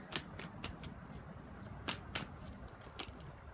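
Tarot cards snap and riffle as a deck is shuffled and cards are pulled, a handful of sharp papery flicks over a soft background, quiet and close.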